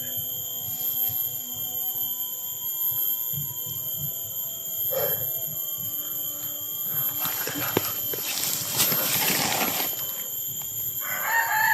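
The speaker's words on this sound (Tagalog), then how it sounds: "Parang may tumitilaok na manok dito guys." A rooster crows in a long, loud call near the end, heard over a steady background hum and scattered faint noises.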